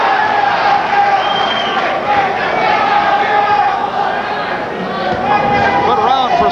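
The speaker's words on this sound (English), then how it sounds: "Landed by James Scott, prompting a reaction from the crowd." Boxing crowd at a light heavyweight fight, a steady roar of reaction after a landed punch, loud and continuous with a commentator talking over it.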